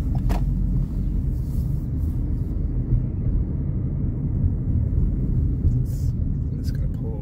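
A car driving slowly through the Old Town streets of Fort Erie, with a low steady road rumble and engine drone from inside the cabin and a few faint background noises.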